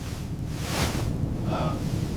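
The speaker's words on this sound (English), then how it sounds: "That gust was too strong." Strong wind rushes and roars in gusts during a blizzard at about -40°C, swelling in the middle, with a rough buffeting noise throughout.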